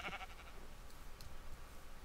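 A short, quiet bleat from a sheep in Minecraft rises at the start, followed by faint scattered game noises and soft clicks against low background hiss.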